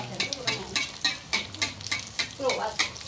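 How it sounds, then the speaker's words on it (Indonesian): Kue kucur batter sizzles and crackles steadily in hot oil, with rhythmic stirring and scraping clinks from a utensil, close up. "Ini goreng kucur."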